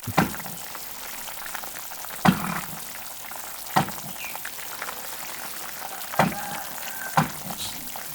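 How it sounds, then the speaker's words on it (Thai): A gas stove burner hisses with a steady roar while northern Thai ash gourd curry cooks, broken by a few sharp clanks of a utensil against the pan. "ขออภัยสำหรับเสียงแก๊สนะครับ มันจะดังหน่อยนะครับ"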